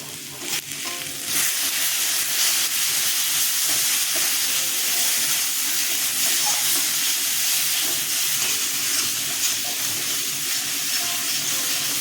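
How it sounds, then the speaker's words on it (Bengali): Spiced masala for a coriander-leaf puti fish curry sizzles and fries steadily in a pan, a loud continuous crackling hiss with stirring noises and no talk throughout. "মশলাটা কষানো হয়ে গেছে"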